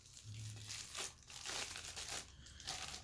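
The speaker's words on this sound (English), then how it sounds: "We're just going to unwrap it from the plastic and pull it all out." Plastic packaging being pulled off a Shark Professional Swivel Pet upright vacuum (CU50WM), soft crinkling and rustling close by for a few seconds, fairly quiet with no talking.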